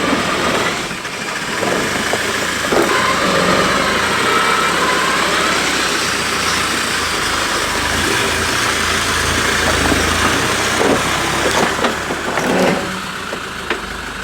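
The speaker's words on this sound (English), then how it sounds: "The Defender still has standard gearing, so the 35s do make it a little bit harder to drive on these steeper sections." A Land Rover Defender on 35-inch tyres with standard gearing crawls up steep off-road sections, its engine droning steadily and revving slightly, with faint rattles from the loose terrain and no voices.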